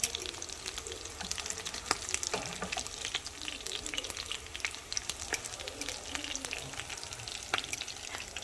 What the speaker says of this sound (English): you want to fry these up until they are golden brown and crispy on the exterior